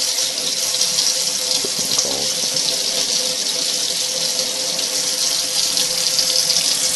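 Tap water runs steadily into a sink as it is left to warm up, a constant close hiss of flowing water with no talk over it.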